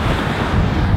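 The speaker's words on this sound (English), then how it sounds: "It's still pretty windy." Constant wind buffeting a microphone on a bridge by the ocean in the Florida Keys, a loud, unbroken rushing roar with surf-like noise and no voices.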